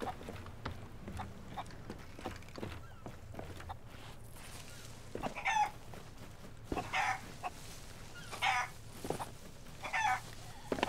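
A chicken in Sea of Thieves clucks in short bursts amid ambient game noise, a handful of sharp, fairly close squawks arriving in the second half, with no voices.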